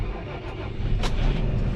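A new tractor's engine cranking and catching on a cold day, a brief loud mechanical burst heard up close.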